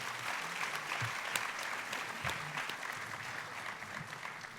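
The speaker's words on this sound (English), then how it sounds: "A huge round of applause for all the flag presenters." At a university conference's inaugural ceremony, a hall audience applauds the flag presenters with sustained, fairly quiet clapping, a dense wash of hands with a few sharper individual claps standing out.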